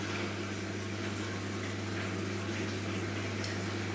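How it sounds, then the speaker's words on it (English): A CK2555AA passthrough dishwasher drains through its drain pump, a steady rushing, gurgling water flow over a constant low motor hum, continuous and fairly close with no talking. "So this is a nice healthy sound you want to hear for the drain"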